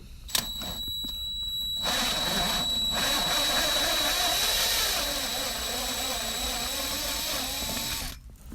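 A tap cutting threads during an IRP shifter install on a BMW 335i E92, heard as a steady, loud mechanical whir with a high whine, starting abruptly and stopping near the end.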